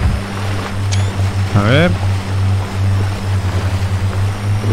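An FJ Cruiser in the off-road game Spintires MudRunner drives through a river, with a steady engine drone under sloshing water; someone speaks briefly over it.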